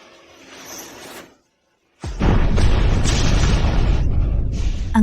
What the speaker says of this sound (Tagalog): Tinatawag mo bang paputok ang pagsabog na yon?